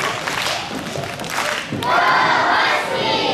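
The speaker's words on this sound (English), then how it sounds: "Husky cheer for them." A fourth-grade class of school children at a morning meeting lets out a loud, sustained group cheer, a dense crowd of young voices shouting together and swelling toward the end.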